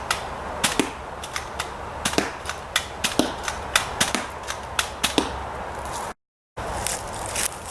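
A blaster fires 3D printed sharpened Nerf darts at a cardboard target, giving a series of sharp snapping pops and thwacks at irregular intervals, up close, with a brief gap near the end.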